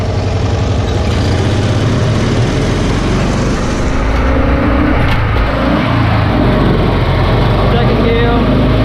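Engine of a Cushman Truckster utility vehicle running steadily while it drives in first gear, a close, continuous low rumble with slight rise in pitch midway; a voice talks over it.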